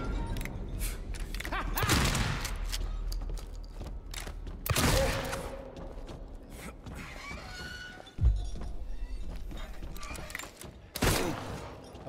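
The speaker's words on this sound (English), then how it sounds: "Even if I have bad aim, I'm not gonna miss shooting at you." A revolver fires in the video game Silent Hill 2 against a boss, with about four loud, booming shots spaced a few seconds apart, each followed by echoing impact and mechanical noise.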